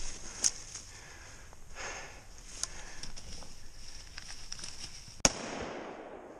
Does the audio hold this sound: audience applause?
no